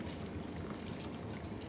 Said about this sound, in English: you want to pour the butter in there, Jonathan?